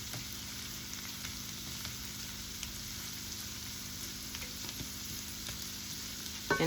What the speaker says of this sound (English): we're just going to simmer this, saute it for like 3 minutes or so, 3 to 5 minutes